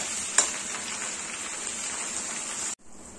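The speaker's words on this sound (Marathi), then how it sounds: "सो मसाला आपण इथे व्यवस्थित परतून घेणार आहोत." Masala paste sautéing in hot oil for a spicy matki (moth bean) curry, a steady close sizzle with a brief louder spike near the start, then a sudden cutoff to near silence.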